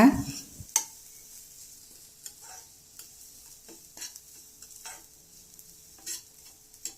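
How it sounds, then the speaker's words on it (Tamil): Grated coconut mixed into spices frying for karamani sundal, with a few spoon scrapes and taps against the pan over a faint sizzle, quiet and close. "அதை இது கூட சேர்க்குறேன். சேர்த்து நல்லா கலந்து விட்டுக்கோங்க"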